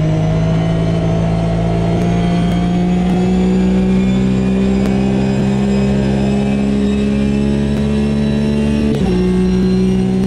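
Race car engine in the Automobilista VR racing game, a steady loud mid-pitched drone that holds almost level, with a brief dip and recovery near the end, no talk.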